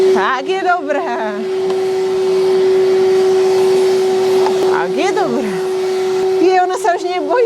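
A vacuum cleaner runs with a steady loud whine close to a draft horse at a draft horse pulling competition, continuing for the whole stretch while people talk over it at the start and end.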